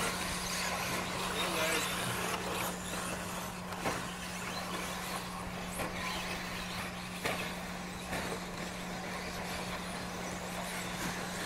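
Short course race cars run an open-class A main on a track, a dense, continuous roar of engines with a steady hum underneath and voices talking over it.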